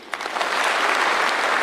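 Applause from a church congregation at an AIPCA service in Central Kenya, a dense burst of many hands clapping that rises quickly and holds steady for a moment, fairly close and without voices over it.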